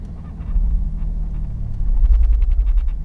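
A Lexus IS300 with a manual gearbox pulls away slowly as the clutch is let out, a steady loud low engine rumble that swells slightly as the car begins to move.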